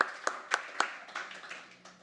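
Scattered claps from a storytelling-event audience: a few sharp, distinct hand claps early on, then softer, trailing applause fading out.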